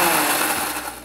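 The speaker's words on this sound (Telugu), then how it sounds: "మిక్సీ పట్టుకుని దాని తర్వాత మన నువ్వుల్ని కలిపి ఒక్కసారి మిక్సీలో తిప్పుదాం" Mixer grinder grinding dried red chillies, cumin and salt, a loud close whirring roar that runs briefly then begins to wind down.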